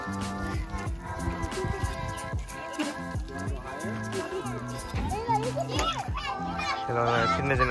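Small children playing in Harvey Jones Park in Canada, their high voices chattering and calling out at a moderate distance, mixed with adult talk and a faint musical drone underneath.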